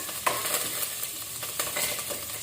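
Chana dal, urad dal and curry leaves fry in hot oil in a pan for bhendi fry, with a steady close sizzle broken by a few stirring scrapes.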